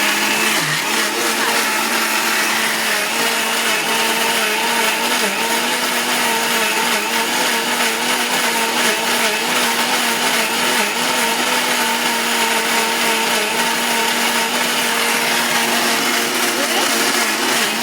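Wet grinder churning idli and dosa batter, a loud, steady whirring drone with a continuous rumble that holds throughout without pause.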